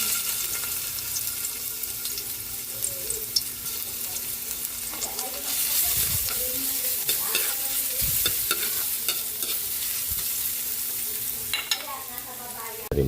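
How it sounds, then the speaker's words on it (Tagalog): Garlic sizzles in a little cooking oil in a pan as the base for Filipino pinakbet, a continuous close crackling fry with occasional stirring scrapes and clinks. "Magigisa na po tayo para sa ating pinakbit. Ating na mantika, konti lang."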